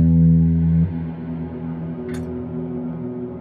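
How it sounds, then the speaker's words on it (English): One guitar note played through a Kemper Profiler with a very long reverb sustains strongly, then drops slightly and keeps ringing in a smooth, even wash, with a brief faint click partway through. "Decay time is about 16 seconds. And there's an attack time at nearly 1 second. So that means that the reverb kicks in very late."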